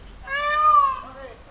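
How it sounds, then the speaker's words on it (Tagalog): Animal at Brno Zoo giving a single drawn-out cat-like meow, rising then falling, fairly close and clear, with no voices. "Yung huni niya parang pusa. Nagmimiyaw. Meow."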